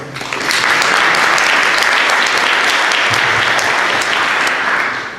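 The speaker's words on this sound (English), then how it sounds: "Let's give them a round of applause again." A conference audience applauds loudly and continuously, dense clapping swelling in and tapering off over several seconds.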